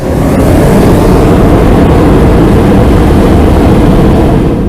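Loud, steady engine roar of an aeroplane in flight, a continuous dense rumble that holds level throughout with no pauses.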